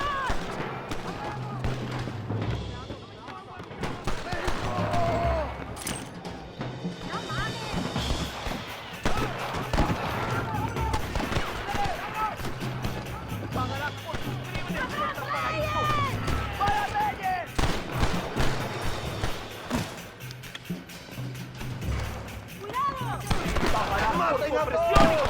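Scattered gunshots from a Western shootout in Red Dead Redemption at the gates of El Presidio, popping irregularly amid game noise and music, with voices talking throughout.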